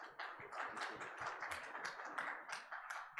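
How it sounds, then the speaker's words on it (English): A small conference audience claps continuously, a dense, even patter of hands that stays moderate and slightly distant throughout. "I think he needs a big round of applause."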